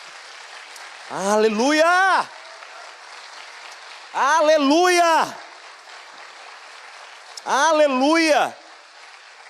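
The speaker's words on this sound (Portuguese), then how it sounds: "Quantos podem dar uma salva de palmas ao Senhor aí por isso?" Broadband applause-like wash at a church sermon runs under three loud shouted exclamations from a crowd or leader, each lasting about a second, with steady noise between.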